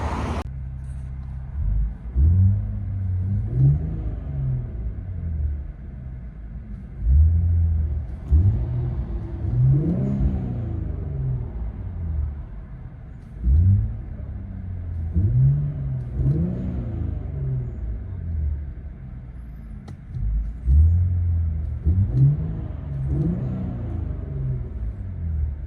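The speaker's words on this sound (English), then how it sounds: "Let you guys hear it on the inside." Cabin view of an Infiniti Q60 twin turbo V6 with an aftermarket exhaust: a low, muffled engine drone rises in several rev swells over a steady rumble, with no voices.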